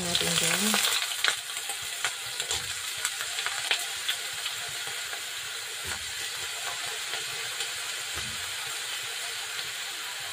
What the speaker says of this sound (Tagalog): Fry muna natin, nalutuin muna natin.